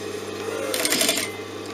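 Sewing machine stitching in a zipper on a garment, a short loud burst of rapid needle whirring between quieter stretches of steady motor hum.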